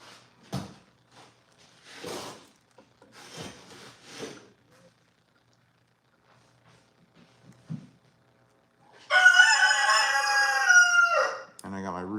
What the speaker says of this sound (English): I got my rooster yelling at me because he wants to go outside.